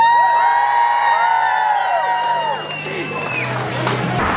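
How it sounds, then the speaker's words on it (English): At a middle school, a crowd of children cheers and whoops for Hannah with loud, high, overlapping voices that slide up and down in pitch, growing rougher and more scattered toward the end. "We're going to do a big cheer for Hannah, okay?"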